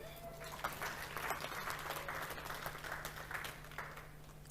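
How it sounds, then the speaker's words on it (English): A church congregation gives a woman a round of applause, with steady, faint clapping throughout and a low hum underneath. "Let's give her a round of applause."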